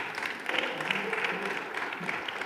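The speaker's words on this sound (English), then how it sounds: "So give yourselves a round of applause." A room of people applauds at an accreditation presentation, a steady, moderately loud patter of many hands clapping together without a break.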